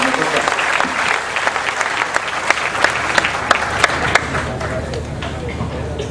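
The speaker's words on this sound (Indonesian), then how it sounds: "Tepuk tangan untuk Bapak Bushro" Audience at an evening cultural dialogue on law and morality in Indonesia bursts into sustained applause for a speaker, a dense close wash of clapping with a few sharper claps standing out and light crowd murmur underneath.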